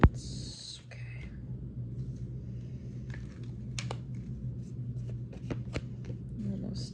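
A deck of tarot or oracle cards being shuffled in repeated soft riffling bursts, close and fairly quiet, over a low steady hum with a few faint background sounds.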